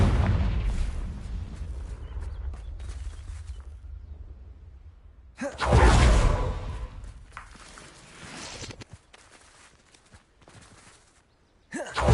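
Bombarda and Confringo spells detonate in a Harry Potter video game. A low rumbling boom fades out, a sharp, louder blast hits midway, and another burst lands at the very end.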